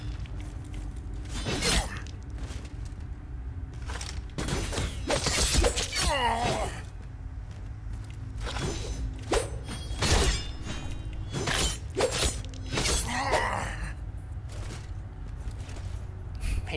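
A roaring, crackling black hole event in the video game Hellpoint, with repeated sharp bursts and shattering swells over a constant low rumble, loud and sustained throughout.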